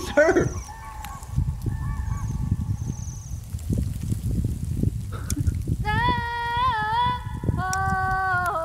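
Several geese honk loudly nearby in bursts of repeated calls, over a constant patter of rain; a voice murmurs briefly at the start.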